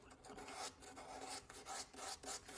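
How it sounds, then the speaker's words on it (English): Sandpaper rasps over a surface being prepared for varnish, with rhythmic back-and-forth strokes in quick succession, close but fairly quiet, with no talk. "what I'm doing now, I'm sanding everything"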